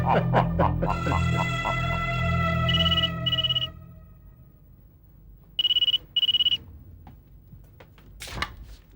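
An electronic phone ring chirps in two short repeated bursts after a few loud musical tones, then quiet with a faint click.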